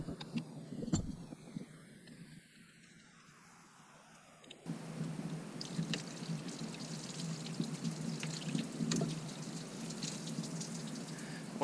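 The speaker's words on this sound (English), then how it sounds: "there's coolant that comes out of there." Coolant drains from a disconnected hose line on a 2004 Ford F-250 with a soft, steady splashing trickle. It is quieter at first, then grows fuller and continues without voices.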